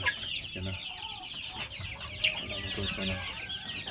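Wild chickens cluck and chatter nearby in a busy, overlapping flock, with soft repeated clucks and a few sharper calls against faint outdoor background.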